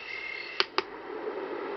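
A HoMedics SoundSpa plays its night nature setting: a steady hiss of insect-like ambience with a faint high tone, broken by two quick sharp chirps close together, fairly quiet throughout.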